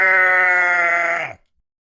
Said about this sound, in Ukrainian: А вівця говорить. Ме.